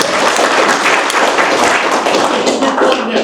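Loud, dense round of applause for a group at a community parks and recreation planning workshop, close clapping filling a short burst without talk.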